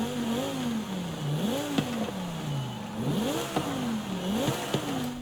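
Lamborghini Huracan Evo V10 in Forza Horizon 5, revved repeatedly in short rising-and-falling bursts about once every second and a half, each ending in a sharp crackle, heard alone at moderate volume.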